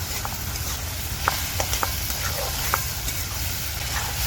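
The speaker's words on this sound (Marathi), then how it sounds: "तर आता टमाटरना मी दोन मिनटं शिजवून घेणार आहे" Tomatoes cooking in a pan for a wild mushroom curry, giving a steady sizzle with scattered stirring scrapes throughout, close and moderately loud with no talking.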